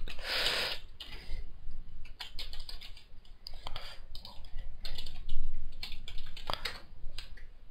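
Keystrokes on a computer keyboard entering an email address, a quick run of close clicks with short pauses, some brief talk in the background.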